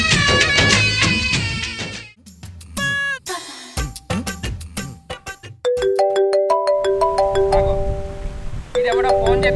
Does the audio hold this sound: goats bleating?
no